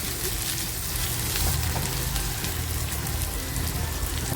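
Onion frying in hot oil in a pan, a dense, steady, close sizzle that continues without a break and with no talk.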